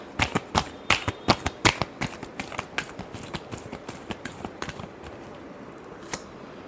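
Tarot cards being shuffled by hand in a series of crisp riffling bursts, close and fairly rhythmic, with no talk over them.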